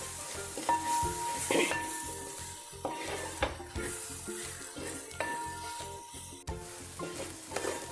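Grated coconut stir-fried for pathila thoran, a Kerala dish of colocasia leaves, sizzling steadily in a pan while a spoon scrapes and clinks against the metal in repeated strokes, close and fairly loud with no voices.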